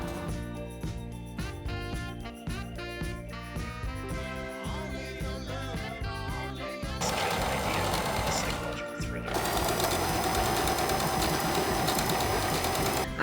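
Overlock machine stitching fabric for a thrifted dress, a continuous whirring, clattering mechanical run that grows louder and busier in two steps toward the end, with no talking.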